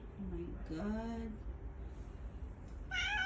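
An abandoned black cat lets out a few short, fairly close meows, one rising and bending, with a final higher meow after a pause over faint background noise.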